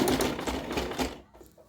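A sewing machine stitches a rug in a rapid, close mechanical chatter of needle strokes that runs for about a second, then stops, leaving quiet.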